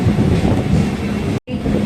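A Chennai local train rolls out of Meenambakkam railway station with a loud, dense rumble of wheels and carriage noise, cut by a momentary dropout.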